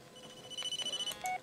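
A telephone in the video game Blair Witch rings with a rapid electronic warbling trill, short pulsed bursts and tones, faint and alone.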